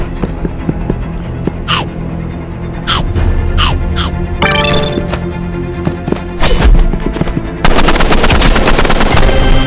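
Rapid automatic gunfire in the Roblox Rivals video game, loud and close, with repeated bursts and rattling volleys over constant game audio, ending in a dense sustained stretch of shooting.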